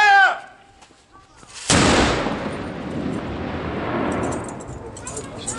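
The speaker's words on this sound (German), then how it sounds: "Kanone, scharf! Leg Zündkraut!" A single loud blast from a black-powder cannon at a medieval castle reenactment at Burgengruppe Altdahn booms out, then a long rumbling roar and reverberation trails away for several seconds; brief voices precede the shot.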